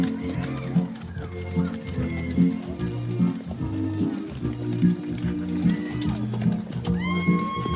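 Horses at a Big Lick horse show class, with continuous hoof clip-clop and occasional neighing amid a steady arena din and loud background music.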